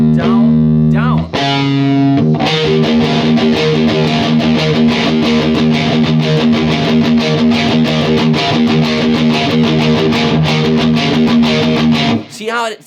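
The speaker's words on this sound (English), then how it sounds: "See how it's really got that badass sound with that economy picking style?" Distorted electric guitar played with economy picking in a down, up, down, down pattern, a fast steady stream of loud, dense picked notes through heavy overdrive, opening with a few ringing notes before the driving run.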